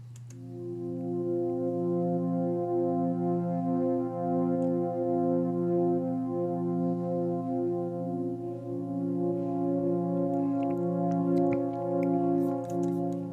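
One layer of a sustained synth pad in a track made in Ableton, holding warm, smooth chords that shift slowly and evenly under a steady low note, with no voices.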